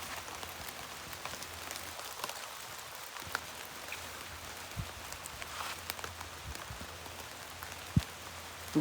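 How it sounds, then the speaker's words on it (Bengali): Light rain falls outdoors near a village fishing pond as a soft, steady hiss of drops on surfaces, faint and continuous, with a few sharper taps and no talking. "বৃষ্টিটা থেমে গেল, দেখো হালকা হালকা হচ্ছে।"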